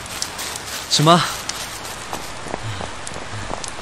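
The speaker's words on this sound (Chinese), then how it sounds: "哎，下雨了， 先回去吧，" Steady rain falls on an outdoor surface as a soft, continuous hiss, with a brief voice speaking near the start.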